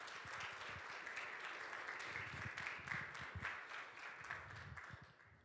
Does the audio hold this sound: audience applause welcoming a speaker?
yes